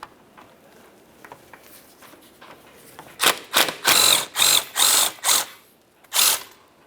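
A ratchet wrench removes two 10mm starter mounting bolts on a 2012-2015 Honda Civic 1.8L: after a quiet stretch, a series of quick, loud clicking bursts follows in close succession.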